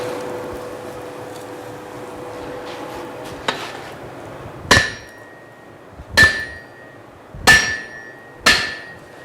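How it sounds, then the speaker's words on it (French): Four loud, sharp hammer blows on metal during forging ring out one after another at a steady pace, each with a short metallic ring, following a quieter lighter tap against a low background hum. "la puissance du coup de marteau"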